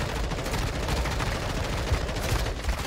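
Rapid, sustained gunfire in Call of Duty Warzone, loud and continuous bursts rattling without a break for the full few seconds, dense and close.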